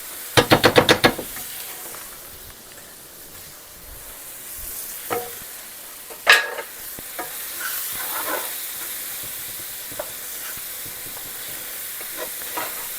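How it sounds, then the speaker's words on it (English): Butter and onion with garlic simmer in a pan, a steady soft sizzle running throughout, opening with a quick burst of utensil clatter and scattered knocks and scrapes of stirring later on. "we're going to let that simmer for a couple minutes"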